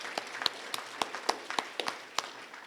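Sparse, light clapping from a small group at a morning school ceremony, a dozen or so distinct claps at an uneven pace, fairly faint.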